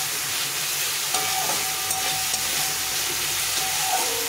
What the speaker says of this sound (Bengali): এই আলুটা দিয়ে দেবো। দিয়ে একটু ভালো করে আবার নাড়িয়ে নেব